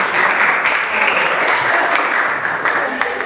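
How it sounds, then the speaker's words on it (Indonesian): A university classroom audience gives continuous, dense applause after a student group's presentation, a loud wash of many hands clapping at once for several seconds. "Baik, tepuk tangan untuk kelompok C."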